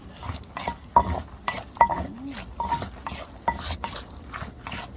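A pestle pounds dry ingredients in a mortar for a seafood papaya salad with rice noodles, sharp rhythmic knocks about twice per second, close and clear, with faint background noise between strikes.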